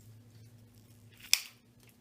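A few small clear crystal gemstones tipped from a little container onto a paper towel give one brief, sharp, crisp tick against a quiet background.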